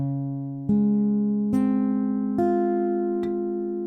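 A guitar chord from a song is picked one string at a time: four or five clear, ringing notes in a steady, unhurried sequence, each note sustaining and stacking over the last, close and alone.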